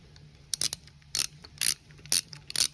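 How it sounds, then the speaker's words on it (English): A 3/8 ratchet with an extension loosens a bicycle headset top cap on a new bike. It makes short bursts of crisp pawl clicks, repeated at a steady rhythm with brief gaps, close up and without speech. "It's really cool because it just takes a 3/8 ratchet."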